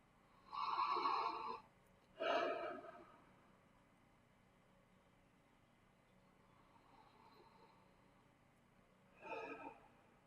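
During a group meditation, people take two deep audible breaths in quick succession, each a loud, airy rush, followed by a long quiet stretch and one more softer breath near the end.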